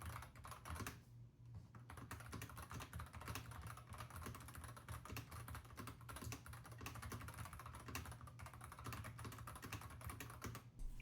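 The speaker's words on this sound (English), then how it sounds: "I'm just going to do a quick typing test just so you can see how it sounds" Fast, continuous typing on a magnetic-switch keyboard picked up by a phone microphone: a dense, even patter of key clicks lasting several seconds, faint and slightly distant, with no voice.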